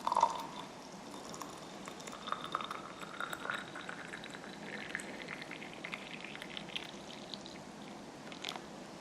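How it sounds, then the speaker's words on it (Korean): Hot water poured into a teapot to steep pu-erh tea, a soft steady stream whose pitch rises gradually as the vessel fills, with a faint clink at the start. "다시 뜨거운 물을 부어서 차를 우리도록 하겠습니다."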